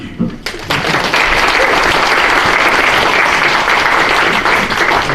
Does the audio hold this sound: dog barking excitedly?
no